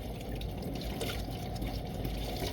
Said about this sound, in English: washing this lid because I got some sugar and some MSG on the top of it